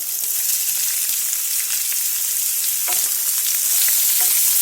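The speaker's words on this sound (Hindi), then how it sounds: "अदरक और लहसुन डालेंगे। गैस पे 1 मिनट तक भून लेंगे। प्याज डालेंगे।" Onions frying with ginger and garlic in a hot pan on a gas stove, a loud, continuous close sizzle with crackling pops and occasional stirring scrapes, no talking.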